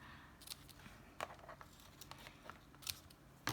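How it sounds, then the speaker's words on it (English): Quiet, close snips of scissors trimming ribbon ends on a Christmas cookies-and-cocoa craft treat box, a few sharp cuts scattered among soft paper and ribbon rustling. "And then we'll just trim the ends here."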